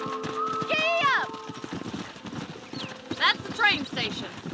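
Horse hooves clip-clop quickly in the Red Dead Redemption video game, with a brief horse whinny and speech running over the steady hoofbeats.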